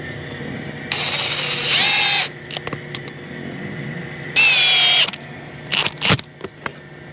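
Power drill driving screws into a stone crab trap, two sustained whirring bursts of a few seconds each with a rising pitch as the screw seats, separated by small clicks and handling knocks.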